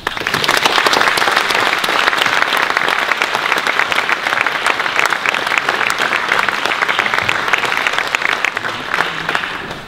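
Sustained, dense applause from an audience at the Frankfurt Book Fair welcoming politician Armin Laschet to the stage, loud and steady throughout with a slight fade at the end.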